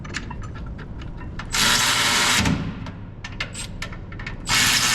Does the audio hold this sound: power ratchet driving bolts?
yes